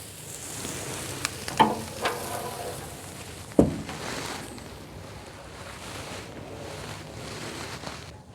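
Skirt steak sizzles softly on a Hasty Bake Legacy charcoal grill, the thicker cut left over the heat; a low, steady frying hiss runs throughout, broken by a few sharp clicks and taps.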